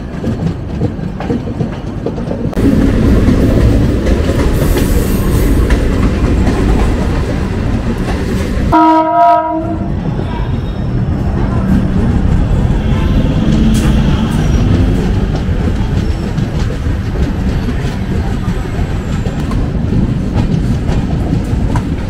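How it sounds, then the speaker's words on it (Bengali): A local train bound for Chennai Beach rolls into a station with loud continuous rumble and wheel clatter, and a brief horn blast sounds partway through, close and dominant throughout. "ট্রেন দেখুন ঢুকে যাচ্ছে"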